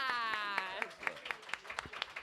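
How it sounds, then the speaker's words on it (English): Scattered claps from an audience at a live anime convention podcast taping, several sharp hits over a sustained hum and a voice trailing off at the start. "clap that up"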